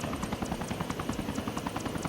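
A helicopter from the Arma military video game flies steadily, its rotor chopping in a fast, even rhythm at moderate distance, heard alone with no talk.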